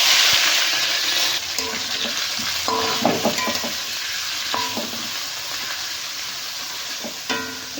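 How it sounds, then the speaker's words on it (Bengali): Chopped vegetables frying in hot oil with bay leaf, dried chillies and whole spices, a loud steady sizzle broken by repeated scraping and clattering of the stirring spoon against the pan. "সবজিগুলো ভালো করে ভেজে নেবো"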